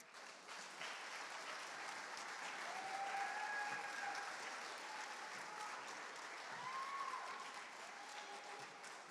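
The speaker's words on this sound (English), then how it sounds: "Okay, everybody, a round of applause." Audience at a 2023 East Haven mayoral debate applauding steadily for about nine seconds, a broad sustained wash of clapping from a crowd with some faint tonal sounds over it, at moderate level.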